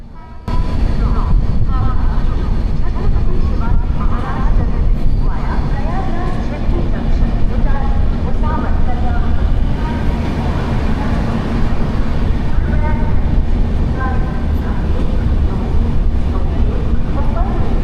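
Howrah-CSMT Mumbai Mail (12321) train running, a loud steady rumble and clatter of wheels on track throughout, with muffled voices audible beneath the continuous noise.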